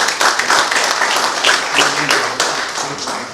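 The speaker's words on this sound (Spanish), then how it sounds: "lo recibimos con mucho afecto, con un gran aplauso también" An audience at a veterinary conference lecture in Spain claps to welcome the invited speaker, a dense, loud round of applause with sharp taps that runs steadily through the brief moment.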